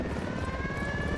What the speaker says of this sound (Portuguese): Olha o helicóptero aí já